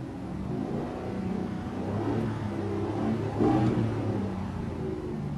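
A car engine, with its MAP sensor disconnected, rumbles at idle and then swells into a moderate rev before settling, heard close and steady without speech.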